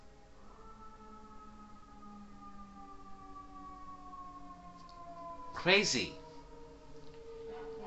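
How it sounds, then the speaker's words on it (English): Fire truck sirens wail faintly in the distance, their pitch sliding slowly downward while a person speaks nearby and a short, louder burst of noise cuts in. "That was a sirens of the fire truck"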